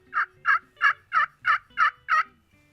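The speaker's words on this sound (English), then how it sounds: "Just simple little cluck and yelp." A Hammer Series slate turkey call played by hand gives seven evenly spaced, crisp yelping clucks in a steady rhythm, close and clear with nothing else around them.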